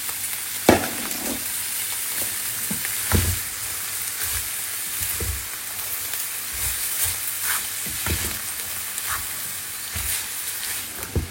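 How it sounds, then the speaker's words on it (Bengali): Grated carrots sizzling in hot ghee with cinnamon, cardamom and bay leaf, a continuous close frying hiss broken by occasional stirring clatter and pops. "ঘির ভিতরে দারচিনি, এলাচ, তেজপাতা, আর এখন গাজরগুলো কুচানো দিয়ে দিব।"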